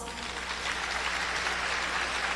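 A crowd at a senior high school commencement ceremony applauds, a dense, continuous wash of clapping heard at moderate distance over a low steady hum.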